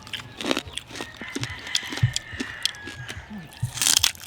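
Crispy fried pork lechon kawali, cooked outdoors, crunches loudly under several close bites, followed by chewing, with talk in between.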